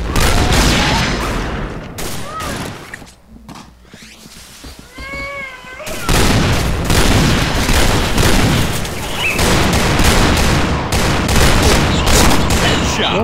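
A grenade blast and bursts of gunfire ring out in a video game shootout, loud and close, with a quieter gap in the middle before heavy firing resumes; a cat meows and a voice is heard between the shots.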